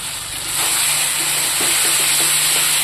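Vegetables fry in a pan with chili powder, turmeric and salt, giving a steady loud sizzle with a few soft scraping stirs near the end.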